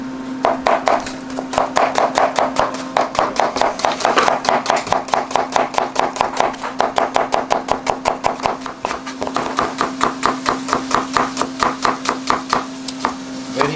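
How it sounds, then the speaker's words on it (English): A knife chops onion slices on a board in a Punjabi food kitchen, a steady run of quick, crisp, close knocks lasting throughout, with a faint constant hum behind and no talk. "Some onion slices."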